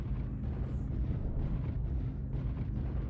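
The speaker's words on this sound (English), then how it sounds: "Artillery strike online." Artillery strike in MechWarrior Online, the mech combat game, rumbling as a continuous series of heavy, deep explosions that roll and swell for a few seconds without any voices.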